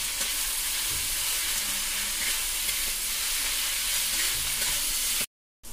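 Onions with salt fry in a pan with a steady, close broadband sizzle while being stirred, continuous for about five seconds before cutting to brief silence at the end.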